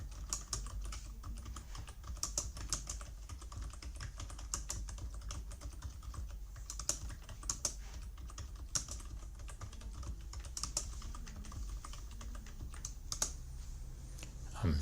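Steady typing on a computer keyboard runs through the whole stretch as a paper is written, with fast, irregular key clicks close to the microphone and no talking.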